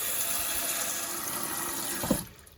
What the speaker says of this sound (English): Fill this up with some filtered water.